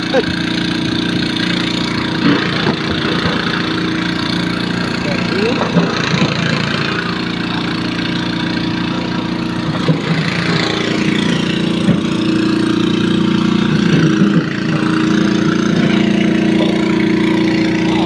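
A fishing boat's motor idles steadily and loudly throughout, a constant droning hum with faint clatter, while someone talks intermittently over it near the catch.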